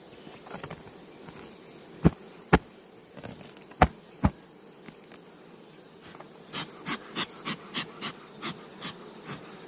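Honeybees swarm around an opened beehive during a summer hive inspection, a steady close buzzing broken by several sharp knocks and a quick run of rhythmic taps near the end.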